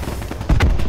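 Gunfire in a multiplayer shooter video game, a couple of heavy booming shots close together over a steady background rumble, brief and fairly loud.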